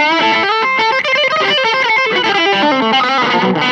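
A loud, heavily distorted electric guitar with a high-output Super Distortion pickup plays a quick riff with a thick, saturated tone, alone and close.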